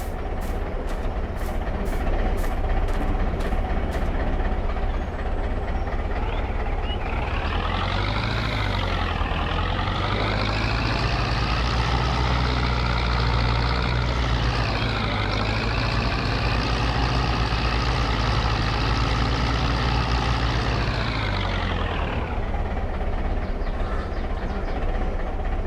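A tractor engine in the farming video game Farming Simulator 22, a loud steady drone that rises and falls in pitch as it revs up and settles, heard alone.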